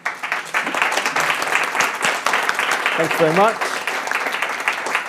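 Audience applause for a discussion panel at an academy event, a dense steady wash of clapping filling the whole stretch, with a voice briefly speaking over it near the middle.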